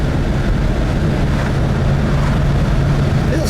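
A 1978 Ford Thunderbird cruising with its T-tops removed, giving a steady low engine and road drone with wind rush, continuous and fairly loud throughout.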